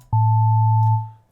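Synthesizer sine wave with an added octave harmonic on a Novation Peak or Summit wavetable, one clean sustained electronic tone about a second long, sharp onset and quick fade.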